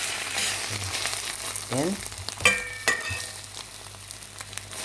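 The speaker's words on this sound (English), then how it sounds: "we will still cook until in the middle of the scrambled egg is cooked" Scrambled egg frying in olive oil in a pan makes a soft, uneven sizzle with scattered pops and the scrape of a utensil, while a voice briefly speaks over it.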